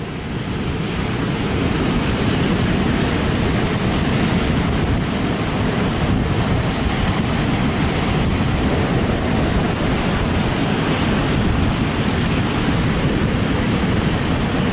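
Heavy ocean surf at Rialto Beach on Washington's Olympic Peninsula, a loud, continuous roar of breaking waves with wind buffeting the microphone throughout, no voices.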